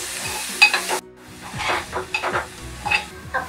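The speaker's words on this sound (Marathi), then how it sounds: "हे मी 2 चमचे यामध्ये घालत आहे आणि चवीपुरतं मीठ घालत आहे। आता हे मिश्रण व्यवस्थित शिजवून घ्यायचं आहे।" A garlic chili masala paste with salt, cooked for a Koli-style halwa fish fry, sizzles steadily in a pan while a spoon scrapes and stirs it in close, repeated strokes.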